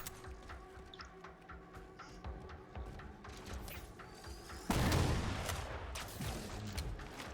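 Distant enemy gunfire in the Halo Spartan Ops mission Galileo on Legendary, faint scattered shots under a steady ambient bed, with a louder burst of fire and impact about two-thirds of the way through.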